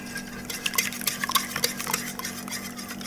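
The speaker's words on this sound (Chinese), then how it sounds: "之后用这个搅拌器呢，把它们打散。" A whisk beats eggs in a bowl during crepe cake batter prep, producing quick, light clinking and scraping strokes against the bowl in an irregular rhythm, close and moderately loud with no talking.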